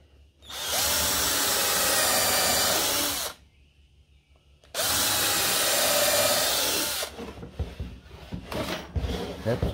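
Power drill driving screws into a flat-pack AusINPA MK 3 stingless bee box, two loud sustained whirring bursts of about three seconds each separated by a pause, followed by clattering handling noises.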